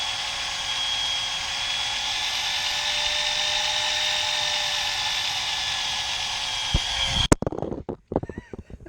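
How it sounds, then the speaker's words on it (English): A drill bores out the rubber bushing of a 2011–2014 Mustang front lower control arm, a loud, steady high-pitched whine held for about seven seconds before cutting off, followed by a few clanks and rattles. "When you finish drilling out the bushing"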